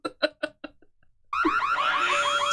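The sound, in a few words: beeping sound effect in theme music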